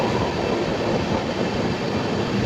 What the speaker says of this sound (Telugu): ఇంకోటి ఏం ట్రైన్ అబ్బా ఇది